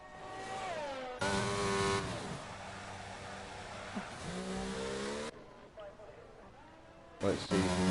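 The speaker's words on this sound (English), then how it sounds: "a couple of cars out on track as we speak" Race cars running on a track, several engines revving and shifting with rising and falling pitch and some tire squeal, heard under a commentator's voice talking throughout.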